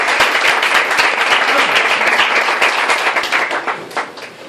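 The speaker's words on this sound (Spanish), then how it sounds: "Un aplauso para él." An audience at a club talk with bullfighter Pepín Liria bursts into loud, dense applause, many hands clapping together before it tapers off toward the end.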